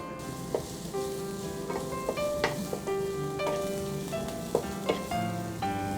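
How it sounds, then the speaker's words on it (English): Finely chopped onions sizzle in butter in a broad non-stick pan over a medium flame, a steady close frying hiss with light spoon scrapes and taps scattered through. "So onions have been sauteed well."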